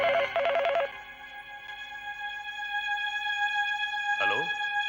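A telephone rings with a trilling electronic bell at the start, then quiet tones linger before a short swooping sound near the end.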